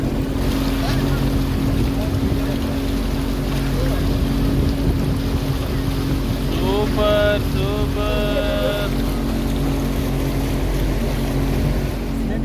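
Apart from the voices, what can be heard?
motorboat ride on water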